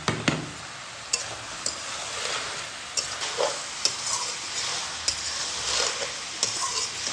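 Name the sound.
stirring cabbage curry with sugar and tomato in a pan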